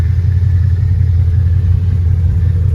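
A Pontiac G8 sedan's engine idles steadily, giving a loud, close, deep rumble with an even low throb and no voices.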